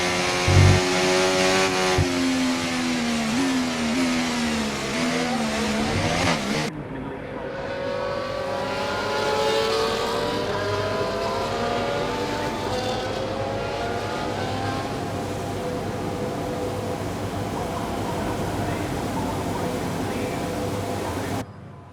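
F1 race cars on the Abu Dhabi starting grid in the F1 24 video game: high-pitched engines rev and rise, then settle into several overlapping idling and blipping engine notes that carry on continuously and fairly loud.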